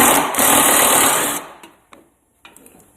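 A 12mm socket driver whirs loudly for over a second while removing top bolts from a Honda snowblower during a belt replacement, then cuts out, followed by a few faint clicks.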